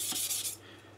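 A knife blade rubs in short strokes across a wet King G-45 220 grit whetstone, a couple of close gritty rasps that stop after half a second, leaving faint quiet.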